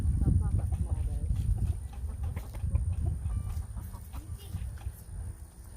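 Backyard chickens cluck intermittently near a poultry-netting fence, their calls mixed under people talking close by and steady outdoor rustle.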